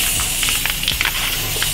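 A spray can hisses steadily as a layer is sprayed onto a resin rolling tray from about a foot or two away, a continuous close hiss with faint ticks and no voices.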